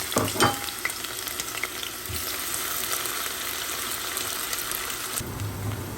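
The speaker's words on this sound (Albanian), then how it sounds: "Vaji është nxehur edhe bismillah hedhim 2 qep." Two onions are dropped into hot oil in a pot with a brief clatter, then a steady, close frying sizzle hisses evenly for several seconds with no talk.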